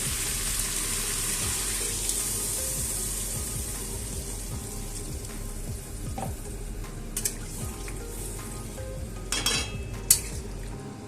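Water is poured into a hot pan of fried prawns and suran (elephant foot yam) curry, a dense continuous sizzle and bubbling close up, with a few clinks of utensil against the pan near the end.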